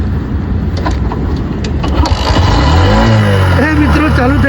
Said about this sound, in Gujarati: ચાલુ થઈ ગઈ છે બાઈક